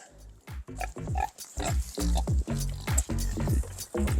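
Pigs grunt and snuffle loudly up close while eating hay laid out as feed and bedding, a rapid series of short throaty grunts with crunching and rustling in between.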